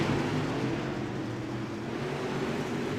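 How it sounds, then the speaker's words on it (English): A UMP dirt car's race engine in a sim racing game at Volusia, Hales Corner Speedway series: a steady, dense engine drone with a low harmonic rumble, holding constant for a few seconds with no voices. "Listen to Warren's car."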